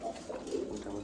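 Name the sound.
pigeons cooing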